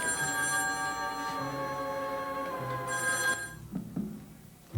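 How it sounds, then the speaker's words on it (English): A telephone bell rings on the set of the soap opera Dark Shadows, two long trilling rings with a pause between them, fairly faint in a quiet room, followed by a few soft knocks and clatter. "Well, aren't you going to answer your phone?"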